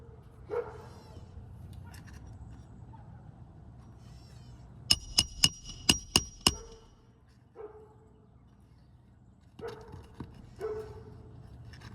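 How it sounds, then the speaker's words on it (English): Six sharp metallic hammer strikes in quick succession ring out, with a dog barking and whimpering intermittently before and after. "each hammer strike"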